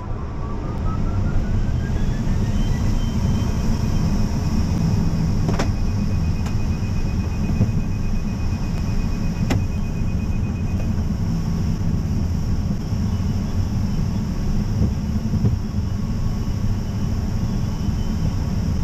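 Glider on a rapid winch launch and climb from Upavon, Wiltshire, with a steady loud roar of rushing air and a low rumble throughout, a faint rising whine early on, no talk.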